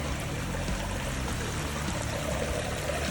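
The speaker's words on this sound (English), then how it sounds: "this is all water coming straight from the return in that upper reservoir" Water pours steadily from the return outlet of an upper pond reservoir after passing through a drum filter and a DIY batting filter. It makes a continuous close rushing splash with no talk over it.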